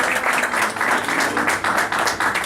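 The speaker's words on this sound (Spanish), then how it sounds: "Le damos un aplauso al Señor." A church congregation applauds together, a dense steady wash of many hands clapping throughout, fairly loud and close, with faint voices mixed in.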